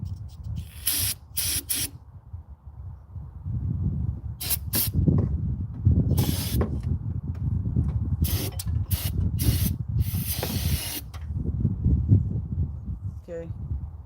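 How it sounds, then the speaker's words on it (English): Brake parts cleaner sprays in several short hissing bursts onto an oily power steering pump area of a 2004 Toyota Tacoma, between rustling work noise and a low background rumble. "Just that brake parts cleaner you use to clean a little bit of that stuff right there."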